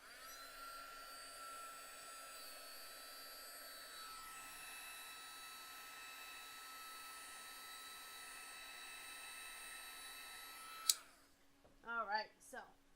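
A heat gun blows hot air over embossing on a greeting card, a steady loud whirring hiss that shifts pitch partway through and then cuts off abruptly, followed by brief speech.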